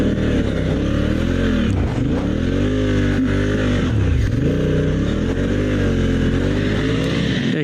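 A dual sport motorcycle on a Scorpion rally tire riding through deep, super soft sand, its engine droning loud and close with rising and falling revs throughout.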